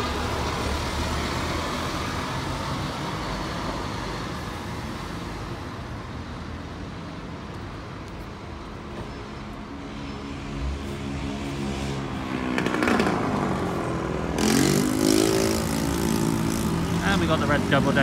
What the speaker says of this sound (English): An old-fashioned double decker going past.